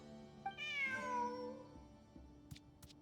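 A cat in Genshin Impact gives one clear, drawn-out rising and falling meow, close and fairly loud. A few faint clicks follow in the quiet game background.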